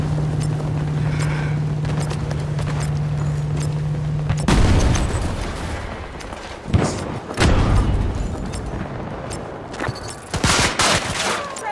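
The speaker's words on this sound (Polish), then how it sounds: "Rzucam granat." A grenade explodes in Battlefield 2042 with a sudden loud boom partway through, followed by rumbling battle noise and sharp shots amid steady background din.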